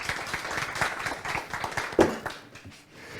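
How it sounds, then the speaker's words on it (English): An audience at a digital health startup demo day gives a brief, moderate round of applause, a steady wash of clapping over a few seconds. "Round of applause for Michal as well."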